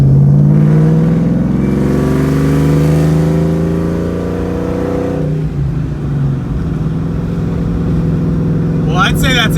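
A 2004 Mustang Cobra V8 revving at half throttle, loud and close, holding a steady high pitch, then dropping back to idle with a brief click near the end.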